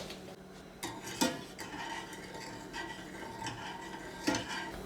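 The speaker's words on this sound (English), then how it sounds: "Yeah, just give that a stir around and taste it" Homemade pho broth being stirred in a pot, with a few sharp clinks of a utensil against the pot rim among softer scraping and swirling, quiet and close.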